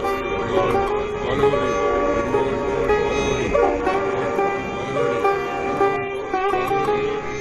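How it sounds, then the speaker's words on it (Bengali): A train horn sounds as an effect in a Bengali village ghost tale, a loud, sustained, steady tone holding throughout with faint fluctuations and no talk. "ট্রেনের হর্নের শব্দ।"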